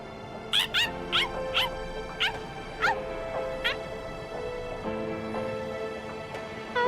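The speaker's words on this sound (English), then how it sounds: "Why'd you follow me? Stupid, annoying dog." A dog in the Bleach Rebirth of Souls video game gives several short, high yips and barks in a loose burst early on, over a steady musical backdrop with some faint voice.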